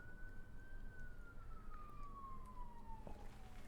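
A distant emergency vehicle siren wails steadily outside, its pitch slowly gliding downward over a constant low rumble of outdoor noise.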